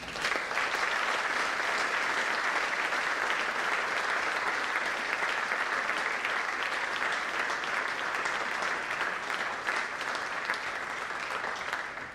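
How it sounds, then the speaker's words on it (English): Sustained applause from a large audience at an honors night awards ceremony, steady and dense clapping throughout with no voices standing out. "Give them a round of applause."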